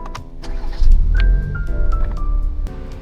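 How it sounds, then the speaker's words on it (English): A Toyota GR Supra SZ four-cylinder engine cranks and catches, settling into a low, steady idle with a brief electronic chime tone, close and fairly loud with no talking. "It has a very typical 4-cylinder exhaust sound."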